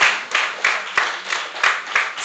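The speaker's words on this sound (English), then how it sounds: "Let us start clapping." An audience claps at a school awards ceremony for the Augier Combined class of 2025, with steady, even applause and a few sharper individual claps standing out in a regular rhythm.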